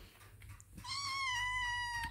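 A plump kitten under three months old gives one drawn-out, tonal meow of about a second, close and clear over a low background rumble, with no talking during the call.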